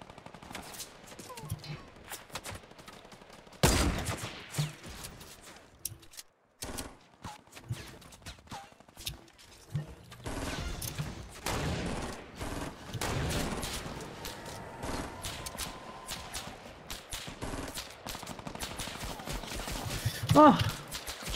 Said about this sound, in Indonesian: Siapa sih nembak nih?